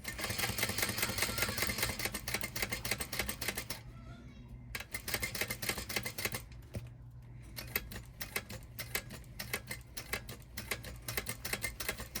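A sewing machine runs at a number 5 stitch length, stitching an eighth-inch seam around fabric in a rapid, steady mechanical chatter that stops briefly twice before starting again, close and loud.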